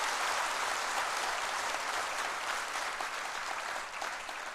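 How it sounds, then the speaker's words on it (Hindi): An audience claps enthusiastically after a minister's speech at a healthcare and telemedicine event, a dense, continuous wash of applause throughout that eases slightly near the end. "आपने उत्साह से ताली बजाई है,"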